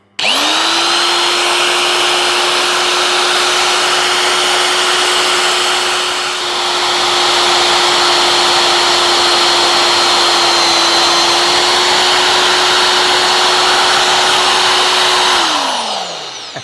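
A loud, steady motor whine from a magnetic drill boring through sheet metal, running continuously for about fifteen seconds, holding one pitch before winding down at the end.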